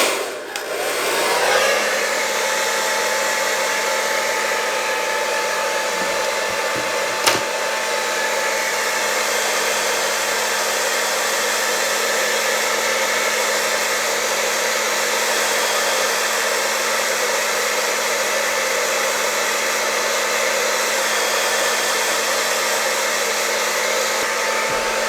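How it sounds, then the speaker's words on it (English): A blow dryer runs steadily and loud for the whole stretch, aimed at lace glue on a lace wig, with a brief click near the start and a steady hum and airy hiss, no talking. "So I got my blow dryer."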